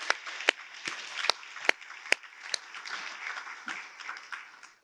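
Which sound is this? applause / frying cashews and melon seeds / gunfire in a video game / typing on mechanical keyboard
applause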